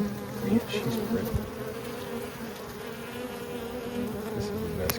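A honeybee colony being cut out hums in a dense, continuous drone close by, with individual bees zipping past and a few faint knocks underneath.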